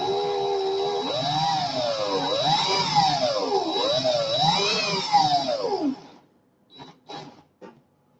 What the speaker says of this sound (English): Maybe I should have clamped the drill to the table anyway.